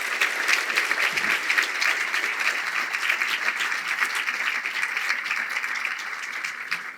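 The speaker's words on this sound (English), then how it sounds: "So I just want to give a big round of applause to all of you and thank you for the work that you do." Audience at a benefit breakfast applauds, a steady wash of many hands clapping that holds throughout and tapers slightly at the end.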